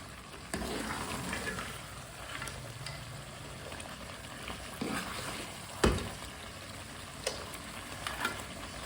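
Mutton fries in a pan with a steady, soft sizzle, and nearby a spoon stirs and scrapes it in irregular strokes, with one sharper clank partway through and no talk.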